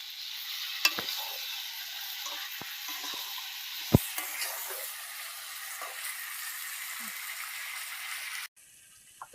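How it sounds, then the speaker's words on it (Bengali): Pieces of taro are added to fried meat in a pan and stirred, giving a continuous bright sizzle with a few sharp knocks and clatters of the spatula, close by, cutting off abruptly near the end. "কচুটা দিয়ে একটু নেড়ে নেবো।"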